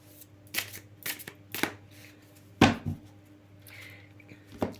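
Large oracle cards, about hand-sized, being shuffled in quick bursts of riffling and slapping, close and crisp, with short pauses between passes and a sharper tap near the middle.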